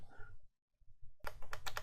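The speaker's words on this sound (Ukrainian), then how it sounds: "Навігаційні кнопки, як і на багатьох інших пультах, доволі гучно і дешево клацають" Sharp, cheap-sounding plastic clicks from the navigation buttons on a Radiomaster Pocket radio controller, a few separate presses followed by a rapid burst of clicking up close.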